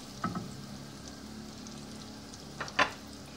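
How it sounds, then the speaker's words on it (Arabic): Butter sizzling in a frying pan, a soft steady frying hiss with a few faint clinks from the pan, quiet and close. "حطوا طبعا الزبده بالكميه اللي تعجبكم انتوا"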